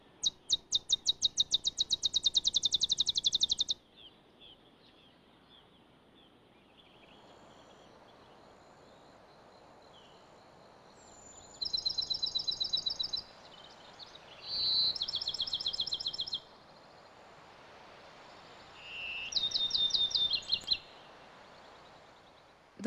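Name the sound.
Bachman's sparrow bouncing ball songs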